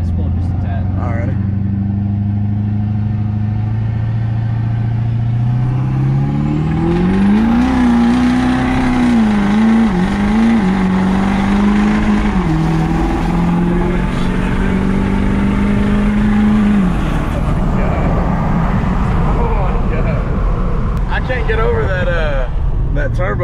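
A Duramax diesel pickup truck with a built transmission pulls hard under acceleration. A loud, close engine drone rises in pitch and holds for several seconds, then backs off, with people talking faintly over it.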